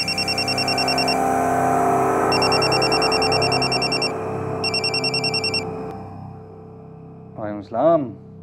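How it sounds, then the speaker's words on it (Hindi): A telephone rings in repeated electronic bursts, pausing between rings over a low background hum, then a voice briefly answers at the end. "मेरे पास स्टेट एजेंट का फ़ोन आया"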